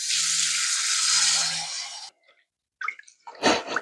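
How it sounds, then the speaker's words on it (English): Water pours steadily in a loud, hissing stream onto salted cabbage for kimchi for about two seconds, then stops; a few soft wet rustles and clatters follow. "you got to put some water"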